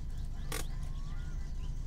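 A car engine idles in the video game My Summer Car, a faint low hum running steadily with a brief burst of noise partway through.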